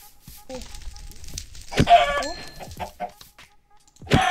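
Chickens clucking in a video game, with pigs nearby, a few short clucks and squawks scattered among game sounds while a person speaks over them.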